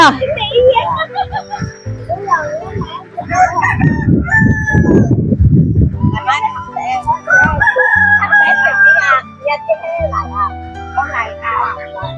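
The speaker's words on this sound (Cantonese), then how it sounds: "瀨鴨喎，呢啲叫。" Ducks call repeatedly in a busy outdoor spot at the Furong peach blossom garden, their honks and quacks mixing with other fowl cries, children's voices and people chatting nearby.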